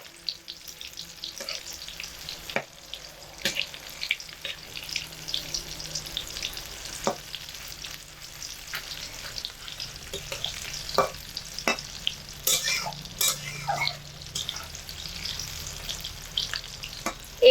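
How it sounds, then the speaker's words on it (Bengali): Maggi noodle and egg fritters fry in a pan with a soft, continuous sizzle. Scattered light clicks and scrapes come from a utensil turning the pieces, and there is no speech. "এবার প্রত্যেকটা আমি এভাবে উল্টে দেব যাতে উপরের পিঠটা খুব ভালোভাবে ভাজা হয়"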